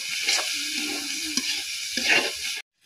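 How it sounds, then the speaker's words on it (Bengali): Bitter gourd and potato pieces sizzle and fry in a pan, with stirring scrapes over a steady hiss that cuts off abruptly near the end. "এবার এগুলো দিয়ে আমি 3 মিনিটের মতো ভেজে নিব।"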